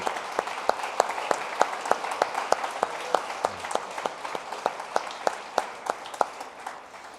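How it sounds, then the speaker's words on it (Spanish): A church congregation applauds for Jesus Christ during a Spanish-language sermon on honoring one's father, a steady, dense clapping with sharp individual claps standing out throughout, fairly close and continuous. "Démosle un aplauso al Señor Jesucristo."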